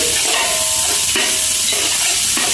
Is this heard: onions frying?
yes